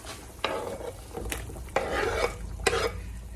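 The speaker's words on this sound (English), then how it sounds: "I'm going to go ahead and put my onion in here" Onion tossed into a pot of cooking neck bones, bursts of rough scraping and clattering as it is stirred, over a low bubbling sizzle, close and moderately loud; no voices.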